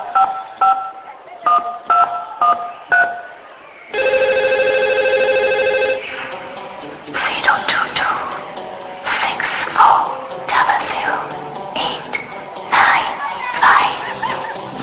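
Close electronic telephone tones, first short repeated beeps, then a sustained ring, followed by people talking with a dog barking in the background.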